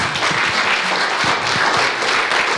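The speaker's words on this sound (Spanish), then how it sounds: "Dale una ofrenda de palmas al Señor" A church congregation applauds during a worship service. Dense, steady clapping continues throughout, close and full, with no break.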